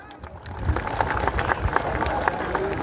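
A crowd at a traditional wrestling tournament in Kashkadarya claps together in a steady, dense burst of applause lasting a few seconds, fairly loud with no talking over it.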